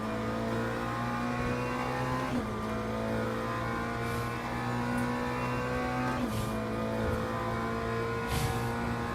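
Racing hypercar engine from the Le Mans Ultimate sim, a steady loud drone with the pitch climbing through gears and short dips at each upshift, continuous over the whole stretch with faint passing cars.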